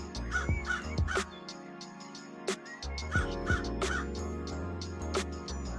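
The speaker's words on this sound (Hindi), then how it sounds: "कालू कौवा जोर जोर से चिल्लाते हुए लाडो के घोंसले के बाहर आ जाता है" A crow named Kaalu caws loudly outside a nest, harsh repeated calls in clusters across the stretch, close and dominant with other bird and dog-like sounds faintly behind.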